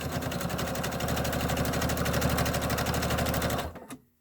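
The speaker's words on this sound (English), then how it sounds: "Now I'm going to do that top stitching on the other side." A sewing machine top-stitches a zipper bag in a fast, steady mechanical chatter close by, running continuously for about three and a half seconds before stopping abruptly.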